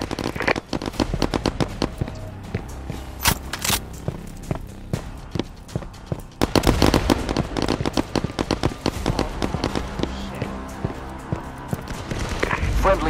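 Burst-fire gunshots from a PSVR shooter, Firewall Zero Hour, crack in quick, repeated clusters through a busy PvP firefight, with loud impacts and scattered footsteps throughout.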